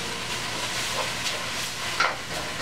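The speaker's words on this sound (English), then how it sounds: "they're still in the pan, frying up and getting crispy" A steady crackling sizzle and hiss of noodles frying crisp in a pan, with occasional louder spits, no voices.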